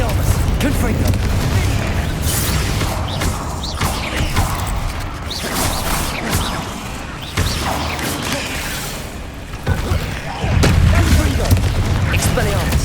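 Spell blast explosions in the Hogwarts Legacy video game, a rapid string of loud booming impacts and crashing bursts close together, layered over continuous combat noise and voices.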